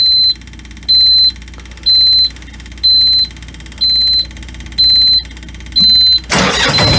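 A diesel engine with glow plugs, on an icy winter day: a steady series of evenly spaced, high warning chimes repeats about once a second, then a sudden loud, rough burst of cranking and firing ends it.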